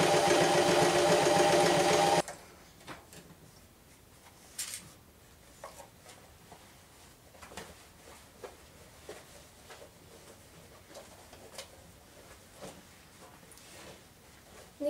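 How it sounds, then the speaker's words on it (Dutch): A sewing machine stitches a denim bag made from old jeans, a loud steady whir for the first two seconds before stopping, followed by quieter scattered handling clicks and rustles. "kun je gaan beginnen met naaien"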